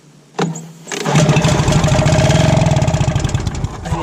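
Two-stroke engine on a cheap secondhand hovercraft pull-started by hand: a short cord tug, then the motor catches and runs in a loud, buzzy, uneven idle for several seconds close by.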